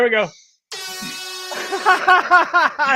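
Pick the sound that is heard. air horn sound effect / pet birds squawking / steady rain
air horn sound effect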